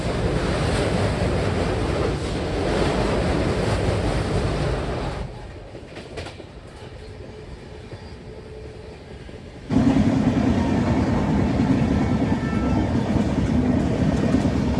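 Duronto Express train rolling across the Yamuna river bridge, a loud continuous rumble and rattle of wheels with wind roar, dropping to a quieter stretch midway before the clatter swells back up.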